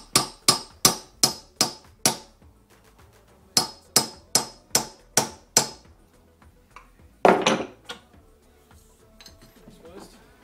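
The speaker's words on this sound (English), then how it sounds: "Now I'll just tighten the locking ring, and tap it." A hammer taps the locking ring on a Honda CBR600RR rear shock (Ohlins and stock units) during a spring change, giving sharp metallic clinks in two quick runs of about six taps each, followed by a louder clatter and faint handling noises.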